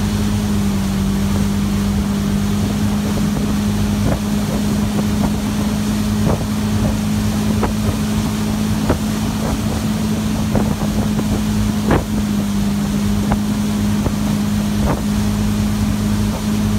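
Steady motorboat engine drone on a lake, a continuous low hum with wind buffeting and faint periodic knocks from the hull over water, constant and fairly loud throughout, with no talking.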